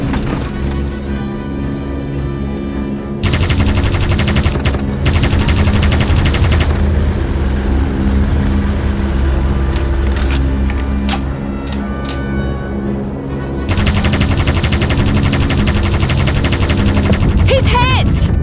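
A Vickers machine gun fires during an aviation combat video game, sounding as loud, sustained bursts of rapid gunfire separated by a quieter stretch of engine drone, with shouting voices mixed in.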